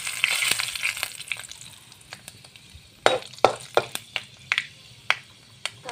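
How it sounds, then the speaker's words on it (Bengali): Fenugreek seeds hitting hot oil for a fish curry with green amaranth, a close sizzle and fry with sharp crackling pops that grow sparser and louder as the seeds spit, with no talk. "এয়া মেথি গুটিকেইটা তেলত দি ল'লোঁ।"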